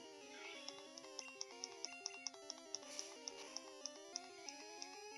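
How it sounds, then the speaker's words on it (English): A phone ringtone plays a repeating melodic tone pattern with regular tick-like pulses, fairly quiet and steady throughout, with no voices over it. "My phone needs to shut up for a minute."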